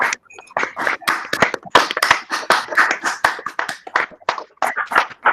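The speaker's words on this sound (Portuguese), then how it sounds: "podem abrir o microfone e bater palmas" Online attendees of a scientific colloquium clap over open microphones, producing uneven, overlapping bursts of individual hand claps with gaps, compressed and close to the mic.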